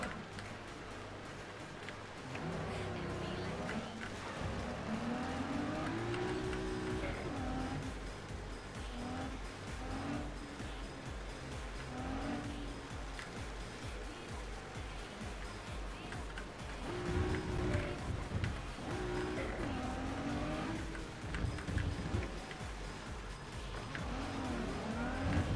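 A car is driven in the video game Cyberpunk 2077, with a steady engine drone that rises and falls as it accelerates, at moderate level and without talk.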